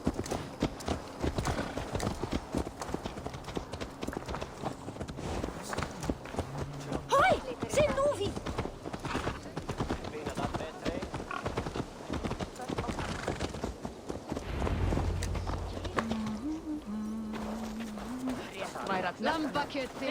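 Horse hooves clip-clop steadily in Assassin's Creed Valhalla, a quick repeated trot with a brief whinny partway through. Characters talk over the hoofbeats.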